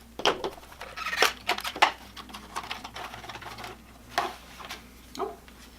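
A tack pen knife slits open the cardboard box of a small amplifier, giving irregular close-up scratchy clicks and short rasping cuts spread unevenly over several seconds, with quiet pauses between strokes.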